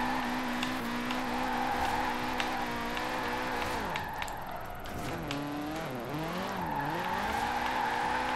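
Rear-wheel-drive car drifting in Forza Horizon 4, with a steady droning engine note that dips and swoops as the throttle and counter-steer change mid-slide, alongside continuous tire squeal, loud and close with no talking.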